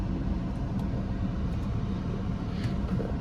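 A rebuilt BMW E46 driving under its own power, giving a steady low engine and road rumble that stays close and even throughout, with no talking.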